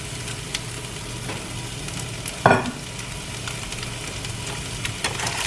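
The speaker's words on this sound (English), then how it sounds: "Give it just a little stir." Ground beef with fresh garden onions and peppers sizzles steadily in a pan while being stirred, with one louder scrape of the utensil midway and soft clinks near the end, no talk, for a homemade taco salad.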